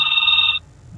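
A telephone rings loudly with a steady electronic warble for over half a second, then cuts off abruptly into a quiet background hum.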